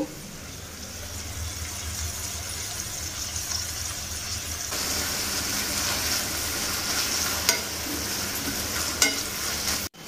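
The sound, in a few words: frying mint leaves with turmeric in a pan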